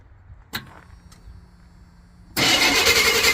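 A classic Chevy pickup engine, run off a 12-volt hookup to the starter and alternator, clicks once, then cranks and catches into a loud, steady roar that fills the rest of the moment.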